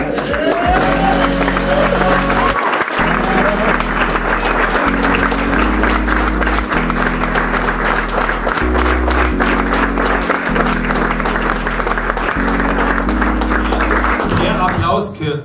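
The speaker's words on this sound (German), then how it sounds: "Applaus gehört euch" A crowd applauds steadily over loud, pulsing music, the clapping continuing for the whole stretch before fading at the end.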